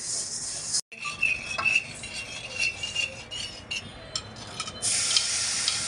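Uncooked rice being stirred and scraped through salt water in a wok over a stove, home-style village puffed-rice roasting; a steady close-up rasping and clinking of grains and utensil against the pan, with one brief pause.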